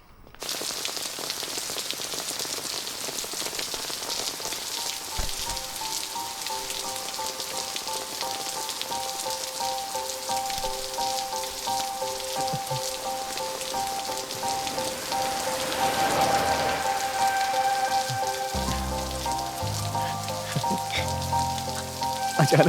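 Sudden rain falling in a steady, close hiss of drops on surfaces that swells slightly midway, with low tonal music entering near the end.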